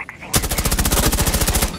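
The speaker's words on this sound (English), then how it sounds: "You're shooting a vending machine." Rapid automatic gunfire in Rainbow Six Siege sprays a vending machine, a loud, close, steady burst of evenly spaced shots lasting well over a second after a brief quiet lead-in.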